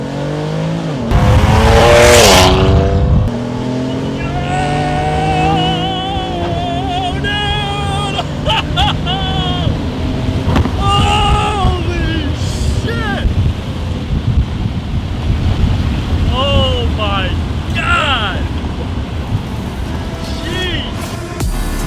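A BMW F80 M3 with a stage 2 custom tune accelerates hard, its engine revving up through gears with sharp, abrupt shifts and rising pitch sweeps, plus wind noise; a voice talks briefly over it.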